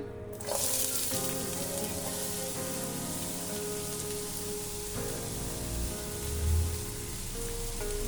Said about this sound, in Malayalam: ഇതിലേക്ക് കുറച്ച് വെളിച്ചെണ്ണ ഒഴിച്ച് കൊടുത്തിട്ടുണ്ട്. ഇനി അതിലേക്ക് നമുക്ക് വലിയുള്ളി ചേർത്ത് കൊടുക്കാം.